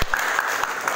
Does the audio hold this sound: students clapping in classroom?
yes